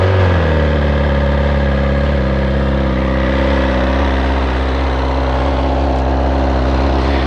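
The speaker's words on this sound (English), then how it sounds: "So let's fire it up and see what she sounds like." A 2024 BMW S1000XR cross-touring motorcycle with its standard exhaust can idles loudly and close, a steady, even mid-pitched engine drone settling after a brief dip in revs near the start.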